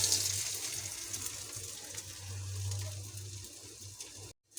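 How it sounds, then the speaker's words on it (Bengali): Lentil paste and onion fritters frying in oil, a dense, steady crackling sizzle heard up close that stops abruptly near the end. "এটা দিয়ে আমি এখন মশমশা করে ভেজে নেব"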